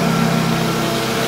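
A new farm tractor's engine runs steadily with a constant mid-pitched drone and a faint higher whine, close by and alone.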